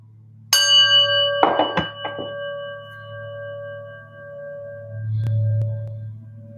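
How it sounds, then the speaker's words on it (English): A prayer bell rung before meditation gives a bright, clear strike followed by a few quick clanks, then a long shimmering tone that slowly decays, with a soft low hum beneath and a faint tap near the end. "Let's start with a big breath and the prayer bell."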